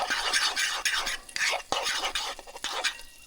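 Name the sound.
stirring beaten eggs in a bowl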